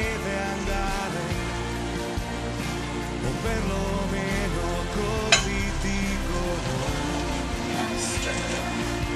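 Risotto with cheese is stirred in a pot, a soft continuous sizzle and scraping that runs steadily beneath constant background music, with one brief sharper clink midway.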